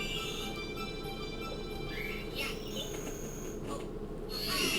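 Outdoor ambience from the Super Mario 64 DS video game: a continuous, even chorus of chirping crickets with occasional brief bird calls.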